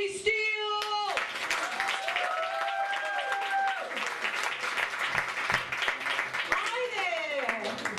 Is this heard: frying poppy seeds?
no